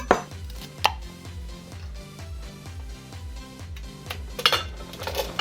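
A knife chops off the tough ends of asparagus on a cutting board, a few sharp, distinct strikes over steady rhythmic music, close and fairly quiet.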